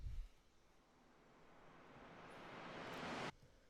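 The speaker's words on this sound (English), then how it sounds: "I've got some effect swells," A whooshing noise swell rises steadily in loudness for a few seconds, then cuts off abruptly.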